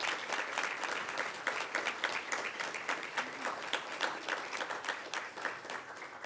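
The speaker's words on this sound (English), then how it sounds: "Let's give them a round of applause." Steady applause from an audience at a patient safety awards ceremony, dense clapping filling the whole stretch without a break, moderately loud and evenly sustained.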